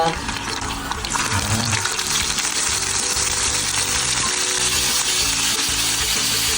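Filipino longganisa sausages fry in olive oil with a loud, steady, hissing sizzle that starts abruptly and carries on without a break, close up.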